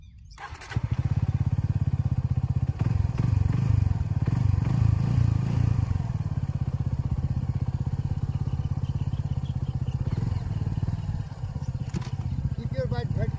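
A heavy Suzuki V-Strom motorcycle engine fires up after a brief quiet start, then idles with a steady, loud, close throb that runs to the end.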